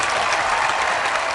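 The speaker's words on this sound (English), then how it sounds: "Wedding day applause for gay couples who said "I do" in what's been an historic weekend around the state." Dense, steady applause from a crowd cheering same-sex couples on their wedding day in Washington state, a continuous wash of many hands clapping at once.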